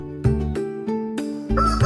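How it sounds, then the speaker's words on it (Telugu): A chicken clucks in a few short, close bursts separated by brief pauses, its calls fairly loud and alone without any talking. "దీని పేరు కోడి. ఇది పక్షి జాతికి చెందింది."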